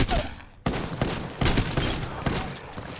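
Gunfire bursts from a weapon in the video game Apex Legends, with several sharp rapid volleys close and loud, broken by brief pauses.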